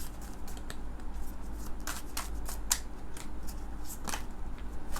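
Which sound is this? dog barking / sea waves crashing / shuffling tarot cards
shuffling tarot cards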